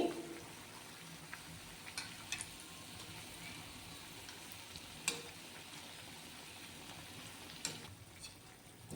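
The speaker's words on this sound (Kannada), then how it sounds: "ನೀಟಾಗಿ ಎರಡು ಕಡೆ ಗೋಲ್ಡನ್ ಕಲರ್ ಬರೋ ತನಕನೂ ಫ್ರೈ ಮಾಡ್ಕೊಳ್ಳೋಣ ನೀಟಾಗಿ. ಮೀಡಿಯಮ್ ಉರಿ ಇಟ್ಕೊಂಡಿದ್ದೀನಿ." Palak bonda frying in oil over a medium flame, a faint continuous bubbling sizzle with a few sharp pops and clinks of a utensil, quiet and without talk.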